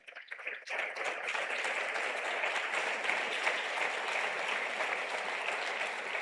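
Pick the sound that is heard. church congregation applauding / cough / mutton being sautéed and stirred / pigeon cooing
church congregation applauding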